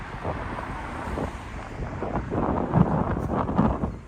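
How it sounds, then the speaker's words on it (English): Strong gusty wind roars and buffets the microphone continuously in a Tokyo park, rumbling loudly close up with no talking. "it's windy here"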